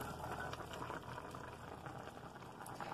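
A pot of vegetables with carrot, peas and potato bubbles at a steady, gentle boil, faint and close with a continuous fizzing simmer.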